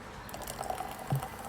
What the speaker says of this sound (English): then I'm adding sparkling water